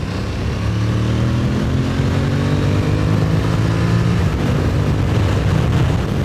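Aprilia Tuareg 660 motorcycle on a test ride on wet roads with a buckled front wheel, its engine droning steadily and loudly with rising and falling tones as it accelerates, along with constant wind rush and no talk.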